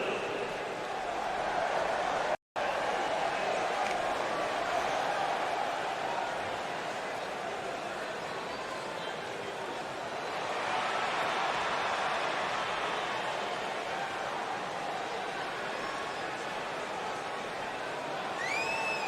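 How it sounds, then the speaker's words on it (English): A wrestling event crowd fills an arena with a steady, dense roar of cheering and chatter, swelling slightly midway and continuing under an announcer's talk throughout. "Sounds to me, guys, like this crowd is ready to get this night started."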